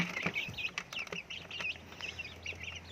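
Native Brahma-cross chickens cluck in a run of short, repeated calls at moderate distance, with a steady low hum underneath and no talking.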